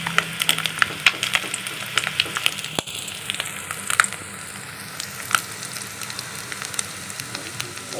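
Puti fish fry in hot oil, giving a steady close crackling sizzle with sharp spitting pops throughout and a single louder clatter partway in, with no voices.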